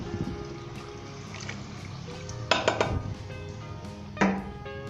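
About a litre of water poured into a pot of frying chicken nihari, with a soft splashing pour and a few sharp clinks of metal on the pot midway and near the end. No one talks.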